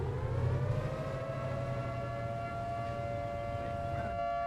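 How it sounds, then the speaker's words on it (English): In Arma 3, a civil defense siren wails in a steady sustained tone with rising harmonic sweeps, loud and continuous under low background rumble, with no speech. "that's a siren."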